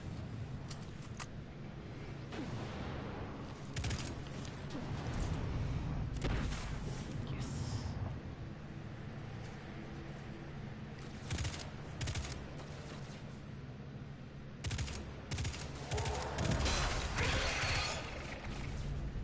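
Gunfire in the shooter game Destiny 2 rattles almost nonstop, with rapid bursts, mechanical clatter and louder cracks stacked over a steady bed of battle noise. No one speaks over it.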